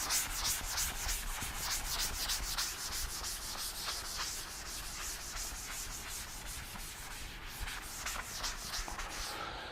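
A hand rubs writing off a classroom board in a quick, continuous back-and-forth scrubbing, soft and steady throughout.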